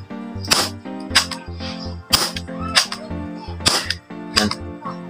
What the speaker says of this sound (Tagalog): palakas ng palakas yung putok niya.